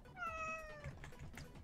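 A single cat meows in the video game The Sims 4, a short, clear, tonal call that is fairly quiet, with a few soft clicks around it and no speech.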